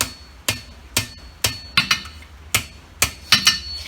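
A hammer striking a horseshoe on the horn of a blacksmith's anvil, about a dozen sharp ringing blows in an uneven rhythm with a few quick doubles, close and loud, no talk.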